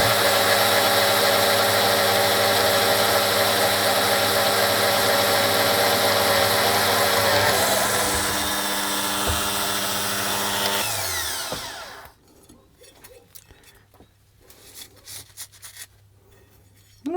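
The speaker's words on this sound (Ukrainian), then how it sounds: "Я люблю сверліти на низьких оборотах. Натискаю я не з великим зусиллям." Drill running at low speed in a Komunaras PS-2a drill press stand, fed with light pressure: a loud, steady motor whine and grinding hum for about twelve seconds, then it winds down, leaving faint handling clicks and rustles.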